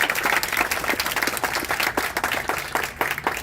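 A crowd at a life celebration honoring a teacher applauds steadily and fairly loudly, with dense overlapping claps that hold for the whole stretch and no pause.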